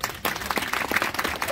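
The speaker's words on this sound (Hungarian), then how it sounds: "Kezdjél el mondjuk tapsolni!" Audience at a Halloween night event in Debrecen clapping, a burst of scattered hand claps from a crowd that rises and continues briefly, with some voices mixed in.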